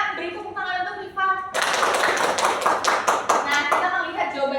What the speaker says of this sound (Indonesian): beri tepuk tangan untuk Rifa